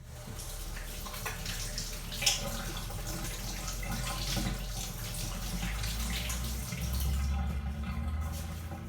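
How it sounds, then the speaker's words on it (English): Hands are rinsed under a running tap in a home kitchen during vegan bread making, with a steady close rush of water and small splashes that keep on without a pause. "Then quickly wash your hands."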